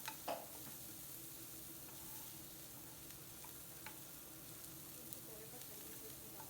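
Curry leaves and coriander hitting hot oil with roasted onions, a soft continuous sizzle with a sharper crackle at the start and occasional light pops.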